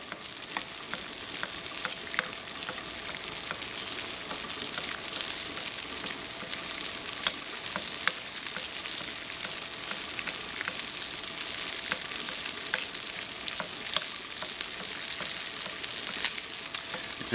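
Steady crackling and sizzling of fish frying in hot oil, continuous and close, with no voices.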